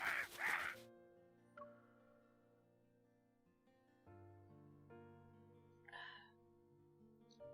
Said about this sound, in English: As if expressing his grievances, the crow screeches.